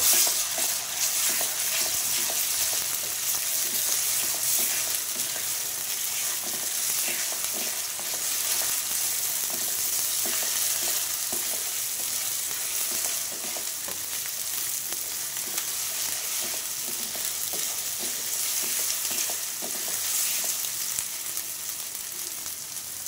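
Ginger garlic paste sizzles with onions in a pan for chicken curry while a spoon stirs it, giving a loud, continuous close-up frying hiss with a ripple of scraping strokes throughout.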